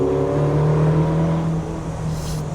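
A 10-year-old Ferrari California T's engine revs hard and steady, a loud harmonic roar that holds close by and eases slightly toward the end.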